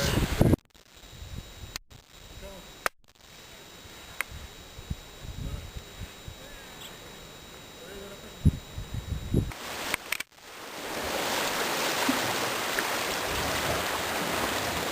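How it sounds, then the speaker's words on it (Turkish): Steady rush of running water from a nearby stream, joined by a louder broadband wash in the last few seconds, with scattered small knocks. "Şimdi mükemmel bir dere yatağındayız."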